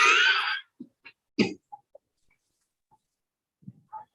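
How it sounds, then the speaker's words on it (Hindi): A person coughs once loudly in a short harsh burst during a health and diet discussion, followed by a few faint throat sounds and small noises in a quiet room. "खांसी"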